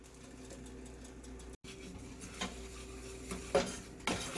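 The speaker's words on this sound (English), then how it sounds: "the butter and the flour are completely mixed" Butter and flour being stirred together in a pan for potatoes au gratin, with soft scraping and a quiet sizzle broken by sharper metallic clinks of a utensil on the pan, close and moderately quiet.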